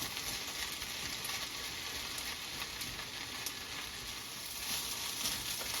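Scrambled egg stirred into rice frying in a hot pan gives a steady, soft sizzle with faint scraping and stirring, continuous and fairly quiet, with no voices.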